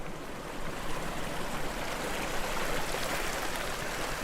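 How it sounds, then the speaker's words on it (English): A desert spring gushes water out of a blue hole in the ground in Death Valley, making a constant, close, broad rushing hiss with no breaks. "a bright blue hole in the ground that's gushing water"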